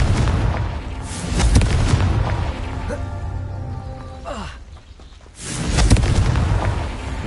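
Confringo blasting spell explosions in the Hogwarts Legacy video game, several loud booming blasts with crackling bursts and short quieter gaps between them.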